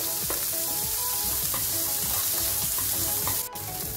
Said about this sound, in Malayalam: ഇത് ലോ ഫ്ലെയിമിൽ ഒന്ന് വഴറ്റിയെടുക്കാം.